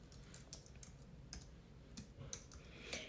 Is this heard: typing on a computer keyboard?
yes